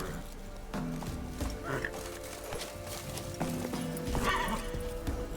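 Geralt's horse Roach in the video game Witcher 3, with a couple of whinnies and clip-clopping hooves over game ambience, and a voice speaking over it.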